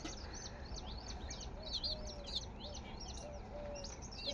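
Small birds, bulbuls among them, chirp and tweet near a homemade sparrow house outdoors, with scattered bright calls over steady background noise, moderately close.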